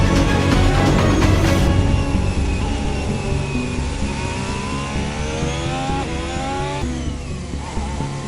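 Formula 1 race cars driving at speed: a loud, high-revving engine wail rises and falls in pitch as the cars push through gear changes, with a steady roar underneath.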